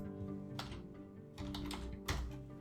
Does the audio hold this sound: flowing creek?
no